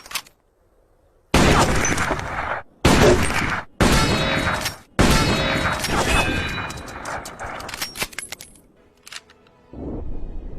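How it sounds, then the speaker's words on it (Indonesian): Gunfire from a sniper shooting test in the Iranian film Taktirandaz: several loud, sharp blasts in close succession, each trailing into echo and clatter, with short silent gaps between and no talking. "Hussein meminta Zarin untuk membuktikan kemampuannya dalam menembak"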